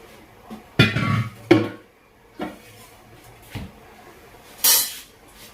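Kitchen clatter as a lid goes over a bowl of milk with chillies set to curdle overnight, a few sharp knocks and clinks of utensils with quiet gaps between, ending in a bright metallic clink.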